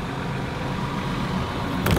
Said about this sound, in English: But first we have to start the cars.